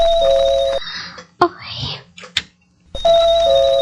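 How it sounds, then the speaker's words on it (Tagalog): A doorbell at a gate chimes in two bursts of bright sustained tones at the start and end, with quieter clicks and a voice-like sound in the gap between them. "Ba, may doorbell."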